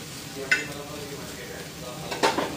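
Beans roast in a pan over a high gas flame, giving a soft continuous sizzle with two sharp scraping clatters of a spatula stirring against the metal, close by.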